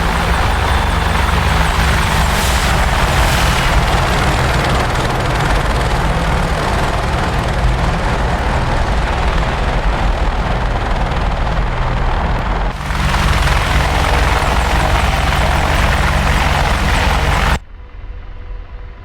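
An AH-64D Apache helicopter in a video game gives a loud, steady rotor and turbine roar up close, with a brief shift partway through, before cutting abruptly to near silence at the end.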